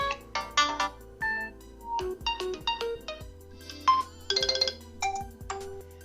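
A Realme Q3 Pro smartphone plays a bright, melodic ringtone of chiming electronic notes in a quick, bouncy pattern, clear and alone with no talking.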